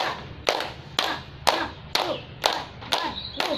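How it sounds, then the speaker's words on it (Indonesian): Hands clap in an even, steady rhythm, seven sharp, close claps heard, each followed by a brief echoing thud in a roomy space, with no speech. "Pertama-tama kita tepuk 10 kali dulu."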